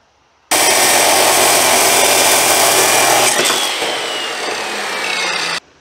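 A power saw cutting a steel rack and pinion part to length for a 1940 Chevy coupe, a loud continuous grinding whine that starts abruptly, eases slightly partway through and stops sharply.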